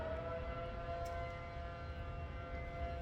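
A civil defense siren wails in a steady, sustained tone, loud and continuous for the whole stretch, with a low rumbling background beneath it.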